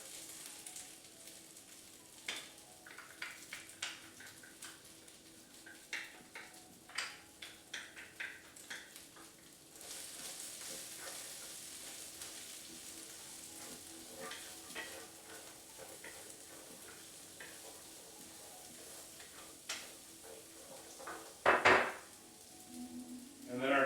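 Green beans and garlic frying in oil in a pan while cooking a Chinese dish, a soft sizzle with scattered stirring clinks, ending in a louder burst near the end.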